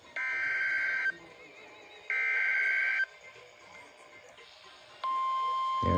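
Emergency Alert System attention tones sound on a weather radio ahead of a flood warning, with three long, loud steady electronic bursts separated by quieter gaps and a thump at the very end.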